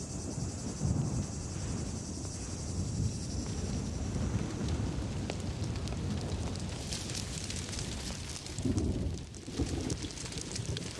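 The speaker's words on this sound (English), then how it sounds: "Oh man, with the thunderstorm" Thunderstorm rain in a Better Call Saul scene: a steady, dense hiss of falling rain runs throughout at an even level, with a slightly louder low swell near the end and no voices.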